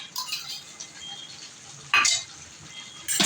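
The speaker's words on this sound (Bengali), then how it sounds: "এটা দিয়ে আমি ভালো করে কষিয়ে নেবো" Jackfruit and fried potato curry with chili paste is stir-fried in a pan, with faint frying crackle broken by two short bursts of scraping and clinking from the spoon.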